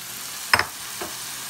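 Chicken pieces hit a hot pan of meat for noodles, giving a quick sizzling crackle with a second softer burst, over a steady frying hiss.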